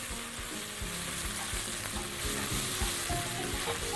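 Onions fry in a pan for an okra tagine as cooked tomato goes in, a dense close sizzle with rapid rhythmic stirring scrapes throughout, loud and steady with no talk.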